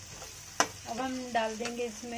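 Onions and tomatoes sizzle in a pan over medium heat while being roasted for an aloo gobhi gravy, a soft steady frying hiss with a sharp clink of a utensil and stirring, under a voice talking.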